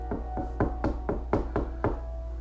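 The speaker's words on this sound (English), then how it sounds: "The knocking interrupted Locke's train of thought." Knocks on a door as an audio drama sound effect, seven firm raps in a steady run, close and clear with nothing else heard.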